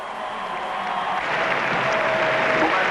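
A partisan crowd cheers at a Formula Opel motor race, a broad, sustained roar of applause and voices that swells slightly, with a faint thin tone running beneath.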